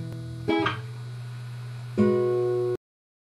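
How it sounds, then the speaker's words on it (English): A guitar chord rings on a sustained drone, then a second strummed chord is struck and cut off abruptly. "You're gonna pluck these 3 strings"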